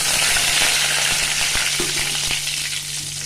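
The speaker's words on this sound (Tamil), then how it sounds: "இதில் நான் இந்த பெருங்காயத்தையும் வரமிளகாவையும் போட்டுறேன்." Asafoetida, dried red chillies and curry leaves sizzling in hot tempering oil for tomato rasam, a loud, dense close crackle with a few small pops, steady throughout.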